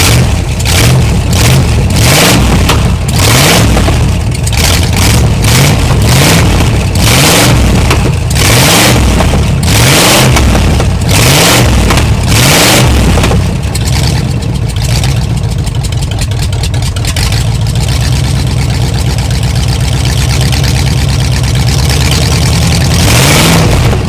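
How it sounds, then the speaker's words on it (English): A seized Pontiac engine, revived after 48 years in a barn, runs loud and close, revving in repeated rising and falling bursts before settling into a rough, steady idle. "Now that we got ourselves a running motor"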